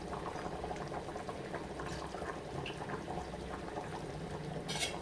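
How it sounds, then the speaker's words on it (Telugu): Taro root curry with onion bubbles steadily in a pot over a village kitchen fire, a continuous soft simmering gurgle heard close with no talk. "సో ఇలా ఉడుకుతుంది కదా"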